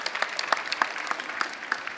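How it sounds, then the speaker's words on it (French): Scattered clapping from an audience, with sharp individual claps standing out over a steady patter, continuing without voices. "c'est un tonnerre d'applaudissements pour Annette"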